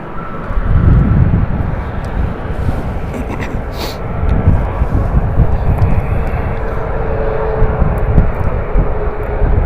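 A Hawaiian Airlines airplane at Las Vegas Harry Reid International Airport gives off a loud, steady, broad jet engine roar, heard from a distance and sustained throughout.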